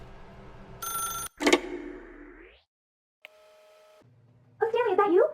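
A telephone in The Stanley Parable video game: loud electronic ring bursts, a clean held dial tone, then a rapid warbling electronic ring, all crisp and close with short silent gaps between.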